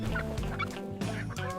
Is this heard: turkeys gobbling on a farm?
yes